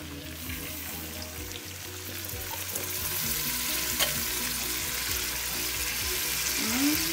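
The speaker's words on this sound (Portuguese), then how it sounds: "Ó, fritando bem." Chicken, corn and rice fry in plenty of oil in a pan for a galinhada, with a steady close sizzle and repeated scraping stirs running throughout, no talk.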